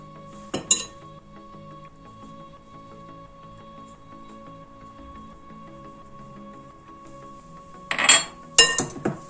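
Metal spoon or masher clinking sharply against a bowl while boiled potatoes are mashed with salt and spices for sausage and vegetable potato patties. The clinks come in a short burst at the start and a louder cluster near the end, with a quiet hum in between.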